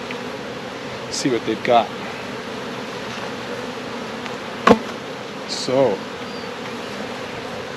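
Honeybees buzzing around an opened backyard beehive as a frame is lifted out, a steady close insect drone with brief louder passes near the ear, while a person speaks briefly over it.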